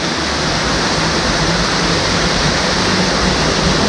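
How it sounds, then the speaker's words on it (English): Gorge Creek Falls in the North Cascades roars as a loud, steady broadband rush of falling water, close and unbroken, with no voices. "So we're leaving Gorge Creek Falls."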